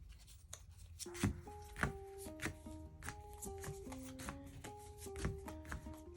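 Cards from a Harry Potter Catch the Golden Snitch game are shuffled by hand, giving soft riffling and snapping bursts over quiet background music, with no talking.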